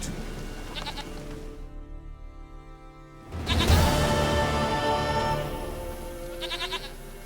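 A goat bleats in The Witcher 3 video game, several wavering bleats that sound close and fairly loud, over a constant game ambience that swells louder halfway through.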